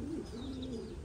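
American King pigeons kept as a flock coo in a low, steady, rolling tone that lasts about a second, close and clear with no voices.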